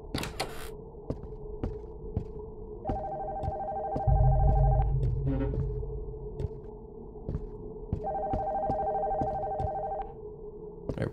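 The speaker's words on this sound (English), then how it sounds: "The phone from upstairs." In a PSX-style horror video game, a telephone upstairs rings in two electronic bursts separated by a pause, over a low ambient hum with scattered ticking clicks and a brief deep thud.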